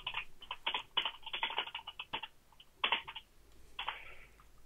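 Quick close-up keystrokes tap out a short message on a computer keyboard in a few brisk bursts separated by pauses, with no one talking.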